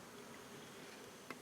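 Faint, steady buzzing of honeybees gathering at a hive feeder topped up with syrup, a soft continuous drone with one brief closer flyby near the end.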